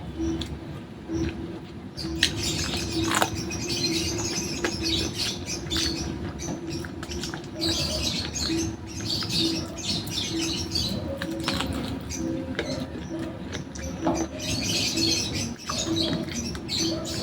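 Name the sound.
birds chirping overhead outdoors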